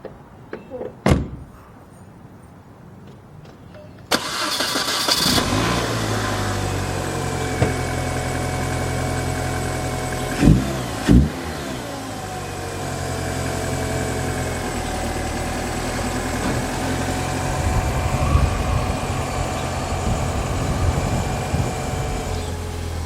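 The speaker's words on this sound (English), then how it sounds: "We'll give it a couple revs, let you hear it." A Mini Cooper engine starts with a clack and settles into a steady idle close by, with a couple of brief blips of revving and some knocks and rattles around it.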